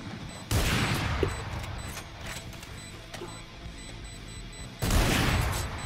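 Gunfire in the video game Valorant: two loud bursts of shots, one near the start and one near the end, with quieter game noise and brief voices between them.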